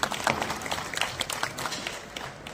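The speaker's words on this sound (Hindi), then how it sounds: "सबसे पहले हम सब आपके लिए ताली बजाएंगे" An audience claps in steady, dense applause at an indoor gathering honoring election supervisors and booth officers, the sound continuous and moderately close with no voices over it.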